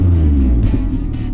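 Old Japanese sports car, sitting for 24 years before repair, heard close and loud as its engine rumbles steadily while driving, a deep continuous low growl with slight wavering.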